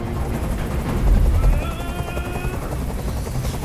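Helicopter rotor chopping in the Detroit: Become Human video game, a steady loud thudding drone that swells briefly near the middle, with a faint whine above and no speech.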